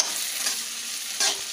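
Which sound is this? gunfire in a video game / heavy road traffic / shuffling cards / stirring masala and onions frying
stirring masala and onions frying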